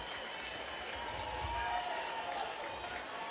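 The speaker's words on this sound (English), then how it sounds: "Michigan crowd getting more excited, more engaged." A Michigan home crowd at a Big Ten Tournament baseball game against Iowa, bases loaded and a full count, roars in a steady, distant wash of cheering and applause without a clear peak, faint under the broadcast.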